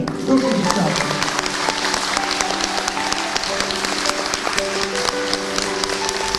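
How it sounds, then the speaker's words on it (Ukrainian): An audience claps steadily throughout, a dense patter of many hands, with a voice speaking briefly over it at the start. "Ми просимо вас оплесками привітати цих героїнь."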